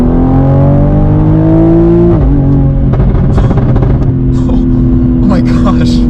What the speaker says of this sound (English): I'm just going to floor it from fourth gear in auto.